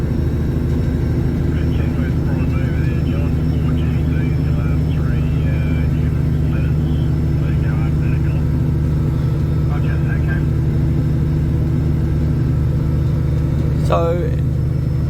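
A road train truck climbing a mountain in Australia drones with a loud, steady heavy-engine rumble as it changes down a gear, with someone talking over the cab noise.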